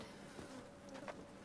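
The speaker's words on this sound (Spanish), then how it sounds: "Otras moscas." Flies buzzing around corpses in the Viking-era world of Senua's Saga: Hellblade II, a faint, steady drone of several insects close by.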